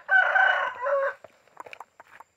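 A rooster gives one loud, close crow lasting about a second, followed by a scattering of short, softer clucks and rustles from chickens nearby.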